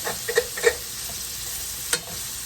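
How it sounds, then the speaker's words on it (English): Onions seasoned with salt and pepper cook in a pan, giving a soft steady sizzle with a few light stirring scrapes and taps near the start and one sharper clink toward the end, with no talking. "we're just going to cook these onions until they soften up"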